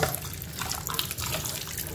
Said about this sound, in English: You rinse it using water.